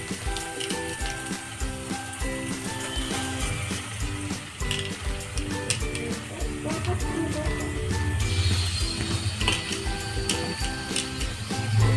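Small whole lotte (Bombay duck) fish sizzling steadily in hot oil with a cooked-down spice paste, a continuous dense frying hiss with occasional crackles that swells slightly louder toward the end, no talking.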